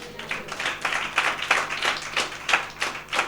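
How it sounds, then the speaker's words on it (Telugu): A church congregation claps continuously for God during worship in a loose, steady rhythm, the many overlapping hand claps forming a moderately loud, even patter. "చప్పట్లు కొడదాం దేవునికి"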